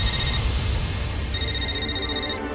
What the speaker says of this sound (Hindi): एक्सक्यूज मी सर, आपका फोन।